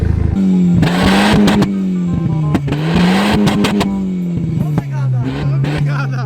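An old winter beater car with its exhaust torn off drives and revs, its loud raw engine drone rising and falling under excited voices, close and harsh.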